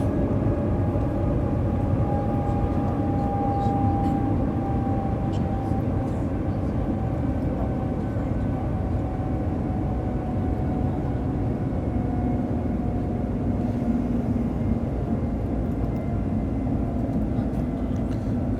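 Cabin of a maglev train cruising at high speed toward an airport, filled with a steady, dense low rumble and airy roar that holds constant throughout, with no voices breaking through.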